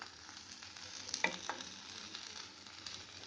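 Turmeric and Kashmiri red chilli frying with bitter gourd in a pan: a continuous crackling sizzle with a few sharp pops, moderately quiet and free of speech.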